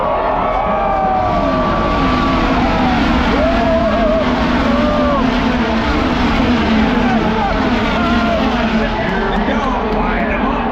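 IndyCar race cars at the Indianapolis 500, engines roaring loudly and continuously as the pack screams past with rising and falling pitch, a dense wall of engine noise heard from the grandstands.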